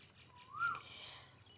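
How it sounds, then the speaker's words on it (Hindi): An Asian koel calls once in a garden, a single rising whistled note, faint and somewhat distant over quiet background hum. "देख रहे हैं कोयल भी बोल रही है।"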